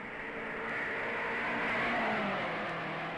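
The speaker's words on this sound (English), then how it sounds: "Out of the north turn, Jimmy Davis in car number 15 bears down and passes" Race cars of the 1955 Indianapolis 500 drone around the track as a steady, fairly faint engine roar that swells slightly and fades, with no talk.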